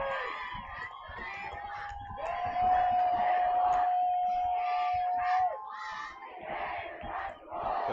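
Home crowd at a high school football game between Bear River and Green Canyon, roaring and shouting on a fourth down, a sustained loud swell of voices with a whistle-like tone held through the middle before easing off.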